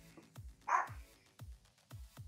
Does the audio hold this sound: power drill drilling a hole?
no